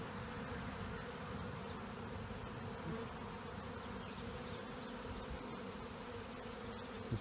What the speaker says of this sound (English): Most of my bees are in the box.